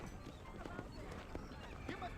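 Horse hooves clip-clopping in the Xbox 360 game Red Dead Redemption, a steady run of soft repeated hoofbeats under a voice talking.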